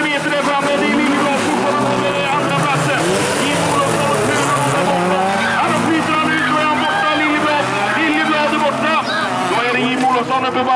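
Bilcross cars race around a track at Vimmerby, engines revving and whining in rising and falling pitches, loud and continuous, under excited commentary from a Swedish announcer.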